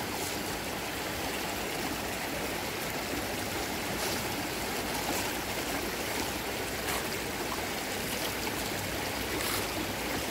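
A river current rushes along steadily in a continuous, even wash of flowing water, close and fairly quiet. Nobody speaks.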